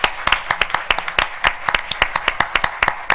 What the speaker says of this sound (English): Give them a round of applause for their smiles.